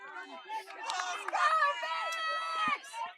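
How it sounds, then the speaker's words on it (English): Spectators at an under-18 men's lacrosse national championship final, Victoria versus South Australia, create a lively, close crowd murmur of overlapping voices and chatter that swells and holds. "So the crowd is building here. There is some noise around."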